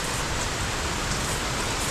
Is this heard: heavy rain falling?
yes